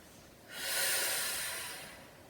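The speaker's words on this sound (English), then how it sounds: "breathing out through the mouth, and breathe in through the nose" During a Pilates exercise, one long, close breath is pushed out through the mouth as a soft, airy hiss. It swells and then fades slowly over about two seconds.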